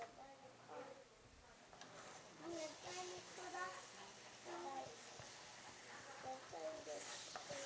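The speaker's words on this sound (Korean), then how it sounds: "자, 이제 소스 끓여요. 바글바글바글." Chili sauce for chicken wings bubbles and sizzles quietly in a pot, a faint background simmer heard beneath a person talking throughout.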